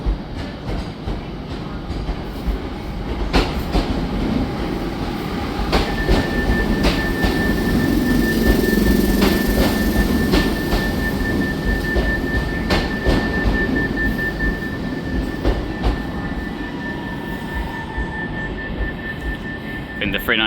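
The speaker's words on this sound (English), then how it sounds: "arriving in here is going to be another Northern Rail 323 service terminating here from Stoke-on-Trent" A Northern Rail class 323 electric train arrives at Manchester Piccadilly, with a sustained rumble and rolling clatter under a steady high motor whine in a busy station, and faint voices in the background.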